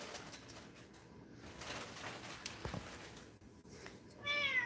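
A small domestic cat indoors gives faint soft vocal sounds against a quiet background, ending in a louder meow-like call at the close.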